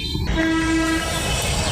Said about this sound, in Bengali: এই যে এটা হচ্ছে রেল স্টেশন